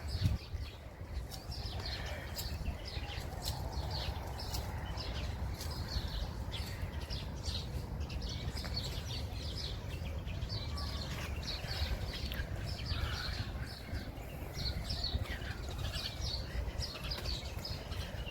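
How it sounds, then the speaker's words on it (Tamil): Outdoor birdsong on a weekend walk at Umm Al Emarat park: steady chirps and tweets with soft cooing over a low ambient rumble, fairly faint and continuous, no talking. "சேர்ந்து பறவை சங்கீதத்தை கேட்கலாம்ல"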